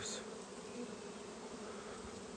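Honeybees, many carrying pollen, buzz around hives at an apiary being checked before a cold snap. The close, steady drone holds without pause and no one speaks.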